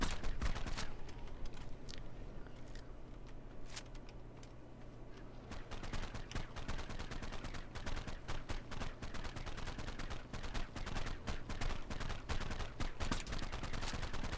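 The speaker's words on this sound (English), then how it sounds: "hopefully I can shoot a couple darts into it and then it'll start running" Tranquilizer darts fired at a Velonasaur in the ARK survival video game: a dense run of sharp clicking shots in steady succession, continuous game ambience beneath, no talking.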